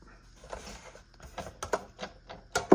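A die cutting machine cuts through paper for a small 3D vial gift box, giving a run of quiet, uneven mechanical clicks and ticks that ends with a sharper clack.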